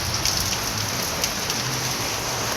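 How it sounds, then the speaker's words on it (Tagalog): Steady rain patters densely on a surface, a constant close hiss with occasional louder drops and no voices. "Ngayon, ulan na."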